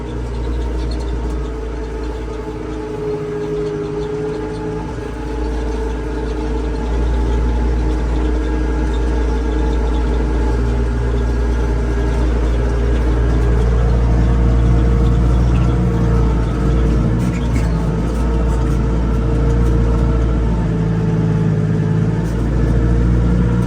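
A tractor engine runs steadily in first gear while rolling downhill from a field after ploughing, a loud low drone with a slight rise in the middle and no voices.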